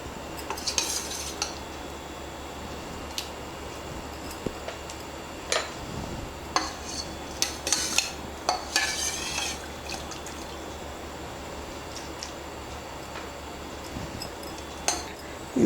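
A spoon stirs food colouring into sugar syrup for tutti frutti, giving sparse metallic clinks and taps against a bowl, with a few clustered scrapes in the middle over a quiet background.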